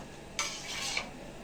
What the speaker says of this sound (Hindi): चावल ऐड करने के बाद आप उसको चम्मच से अच्छी तरह हिला दें